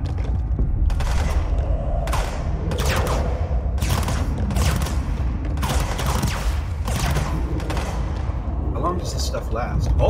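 Gunfire in the video game Control: repeated crackling bursts of shots and impacts over a loud, constant low rumble, with dense volleys clustered at intervals across the stretch.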